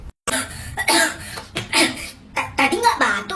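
A child coughs several times up close, the rough bursts mixed in with people talking.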